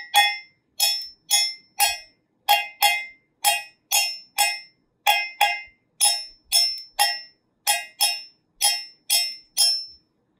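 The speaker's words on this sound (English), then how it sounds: "the bell of the cowbell" Cowbell struck on its bell, about twenty sharp metallic clanks in a steady, slightly uneven rhythm, each ringing briefly before a clean silence, close and alone.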